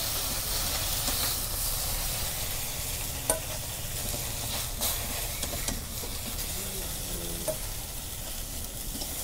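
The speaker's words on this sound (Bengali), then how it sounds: "জোয়ারে খড়ি দিয়ে ভাইজা নিতেছি মাছ" Silver carp sizzles steadily as it fries over a wood fire, a dense, continuous hiss with scattered small pops and crackles, fairly close and without any voices.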